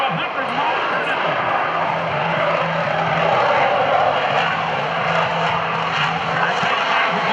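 An F/A-18F Super Hornet jet flies slowly past at a Blue Angels homecoming airshow, its engines a steady, broad roar under an announcer's continuous commentary.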